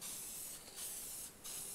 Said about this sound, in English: now I'm just using a Kill Rust type spray can